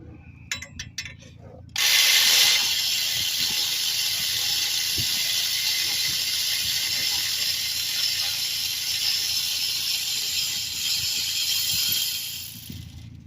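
A ratchet spins out the starter bolts on a 2013 Chevy Impala, giving a loud, steady whirring and ratcheting that runs close up for about ten seconds after a few brief clicks.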